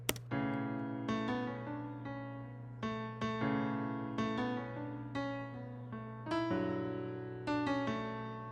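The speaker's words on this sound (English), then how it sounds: "Moving on, I also add the grand piano." A grand piano plays a gentle melody of clear, ringing notes, each struck and left to decay, with a steady unhurried pace and no voices.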